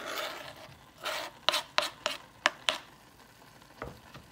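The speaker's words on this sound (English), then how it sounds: "so now we're going to add the diced onions" Diced onions hitting browned meat in a hot pan for American goulash, a steady frying sizzle broken by several sharp scraping stirs near the middle, no talking.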